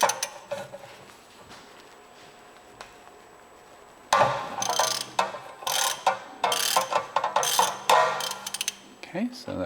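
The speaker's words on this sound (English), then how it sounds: "We're going to start by loosening the two 16mm bolts that connect it to the subframe." Ratchet on a long series of extensions loosening 16mm control arm bolts on a 2021+ Tesla Model S, with rapid close clicking bursts after a quiet opening with faint movement.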